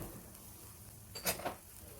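A spoon stirs red chili powder and garam masala into a pan of tangy sardine gravy, giving a couple of faint metallic clinks and scrapes against a quiet background.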